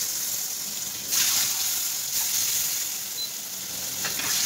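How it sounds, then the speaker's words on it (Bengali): Eggs fry in hot oil seasoned with turmeric, giving a continuous close hiss of sizzling that swells briefly a couple of times, with no talking. "তেলের ভিতরে একটু হলুদ দিয়ে দিলাম যাতে কালারটা ভালো আসে ডিমের।"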